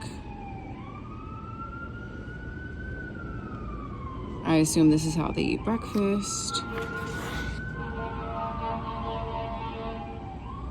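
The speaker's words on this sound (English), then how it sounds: "And of course the ambulance is going by as soon as I do this." An ambulance siren wails, rising and falling steadily, as it passes in the background with São Paulo street traffic rumble, while a person speaks briefly partway through.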